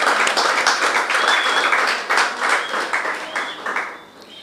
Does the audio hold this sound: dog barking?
no